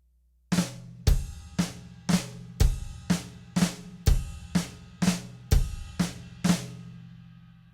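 A drummer plays a flam followed immediately by a cymbal hit, repeated about eleven times in a steady rhythm, each crash ringing bright and decaying before the next; close, clean practice-room sound with no talking.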